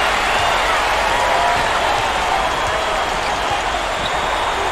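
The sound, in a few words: crowd cheering in basketball video game NCAA 2K8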